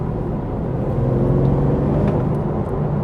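A 2024 Cadillac CT5-V Blackwing cruises in tour mode, its engine a steady low rumble with constant road and tire hum from inside the cabin and no voices.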